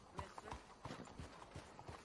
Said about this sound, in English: I'll get off a horse here then.